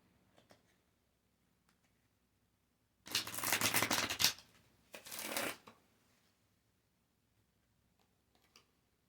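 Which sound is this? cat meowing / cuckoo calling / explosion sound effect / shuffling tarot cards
shuffling tarot cards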